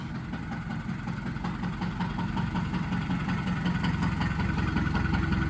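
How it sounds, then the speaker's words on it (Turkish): A farm tractor engine idles steadily nearby, a constant low rumble with a fast mechanical chug running unbroken throughout. "traktörü çalıştırmış"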